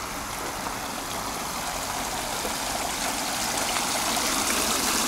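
Water runs steadily from a decorative water feature in Paphos, a continuous, even rushing and trickling close by with no talk over it.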